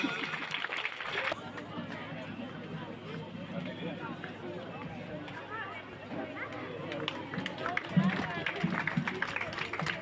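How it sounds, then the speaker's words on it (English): Applause from a school audience for a group of class 3 girls at a Mother's Day celebration, a steady dense patter of many hands with crowd murmur mixed in, sustained for the whole stretch. "Have a loud applause for these girls."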